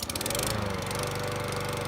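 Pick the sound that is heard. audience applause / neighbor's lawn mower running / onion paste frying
neighbor's lawn mower running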